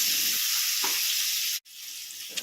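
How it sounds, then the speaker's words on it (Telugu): Garlic paste frying with mutton bones in a pan gives a steady loud sizzle, with a brief cut-out partway through before the hissing resumes. "ఇప్పుడు ఇవన్నీ కలుపుకుంటూ కొంచెం బాగా ఫ్రై చేసుకుందాం."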